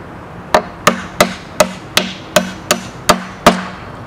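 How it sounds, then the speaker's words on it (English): Nine sharp hammer blows ring out at a steady pace, driving nails out of old barnwood clamped in a vise. The strikes are close and loud, with no voices. "Let's try to drive some of these nails out and see what it does."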